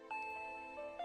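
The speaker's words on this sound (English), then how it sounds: "That's the doorbell." A doorbell chime rings inside a remote house in the Higurashi When They Cry visual novel, with sustained bell-like tones that sound, fade and strike again just before the end, under a steady musical drone.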